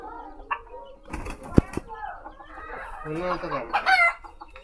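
Chickens cluck and squawk close by, with a rooster's louder calls and a sharp flutter, while a person's voice murmurs faintly in the background.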